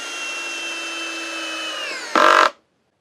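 A Hyper Tough drill/driver drives a screw into a lumber board, with a steady high motor whine for about two seconds, then a brief louder clutch ratchet burst before it stops into silence.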